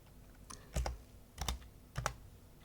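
Keys tapped on a computer keyboard while entering a Linux terminal command: a few separate clicks in small clusters, close and quiet in a silent room.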